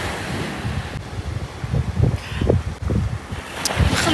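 Wind blowing at the beach at night, gusty buffeting rumble against the microphone that rises and falls in uneven bursts, close and fairly loud, with a soft surf-like wash underneath.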